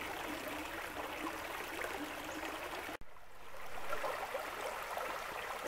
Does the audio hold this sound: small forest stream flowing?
yes